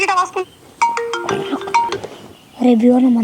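A short melodic electronic phone ringtone plays in bright tones, with a person speaking briefly before and after it nearby.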